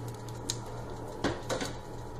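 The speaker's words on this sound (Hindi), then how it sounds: "और अब हम इस प्लेट को अलग करके रख देंगे" A plate is set aside on a kitchen counter while cooking paneer do pyaza. A few light ceramic clinks and taps ring out against a low steady background hum.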